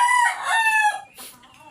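A Sweater-breed rooster crows once nearby, a loud, raspy cock-a-doodle-doo that rises and then trails off into a short tail.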